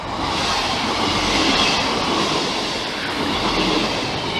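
Class 158 diesel multiple unit 158799 passing through Dore and Totley station in Sheffield, a steady loud rumble of rolling wheels and engine throughout, with no voices.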